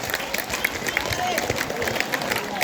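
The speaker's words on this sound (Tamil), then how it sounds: "ரெண்டு பேருக்கு ஒரு நல்ல கைத்தட்டல் கொடுக்கலாம்." Applause from a school audience at a drug awareness program, with steady clapping and crowd noise that continues evenly throughout.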